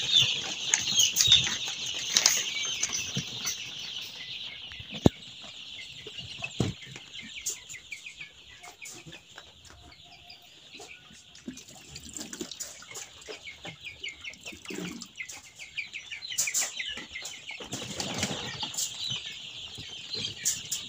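Young chickens in a box cheep and cluck steadily at feeding time, a dense chorus of high peeps with occasional scuffles and flutters, close by and without talk.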